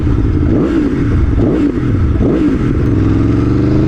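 Aprilia Tuono 1100 Factory motorcycle engine revving hard with the clutch pulled in, loud and close, rising and falling in repeated surges over a steady rumbling idle.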